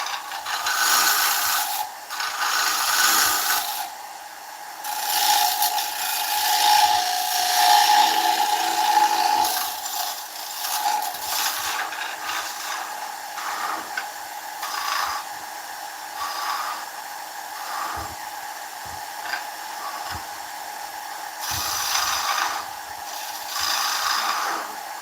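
A bowl gouge cuts spalted beech on a wood lathe, giving a continuous scraping, hissing rasp that swells and fades over about 25 seconds with brief gaps between passes.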